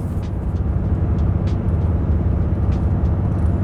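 A RAM 3500 Cummins high-output diesel boosting under load while towing: a steady, loud low-frequency drone of engine and road noise, continuous for a few seconds with no speech.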